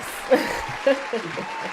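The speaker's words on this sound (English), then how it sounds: "Let's get a round of applause." Audience applause greets a guest introduced at a live talk event, a steady wash of clapping running under a speaking voice.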